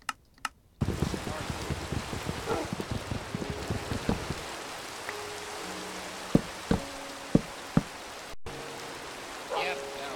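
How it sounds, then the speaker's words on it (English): Rain falling in the Minecraft video game, a steady hiss of drops across the whole stretch, with clicking keys and occasional short tones from the game mixed in. "And it is raining"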